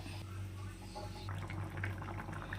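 A pot of fish curry with kudampuli and added water comes to a boil: a steady low burbling hiss with soft bubbling, faint and continuous throughout.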